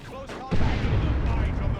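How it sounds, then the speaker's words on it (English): A single heavy shotgun blast in a Warhammer 40k: Dawn of War 2 match lands midway, a loud booming burst with a rumbling tail over battle noise, following someone talking. "There's that shotgun blast."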